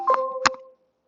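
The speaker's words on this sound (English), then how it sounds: "notification on the Amazon device." A short two-tone notification chime rings out from an Amazon device, with a soft tap in between, then fades into silence.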